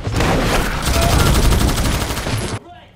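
Rapid, dense burst of gunfire from a shootout in the action film Hunt To Kill, loud and continuous for about two and a half seconds before cutting off abruptly to a quiet tail.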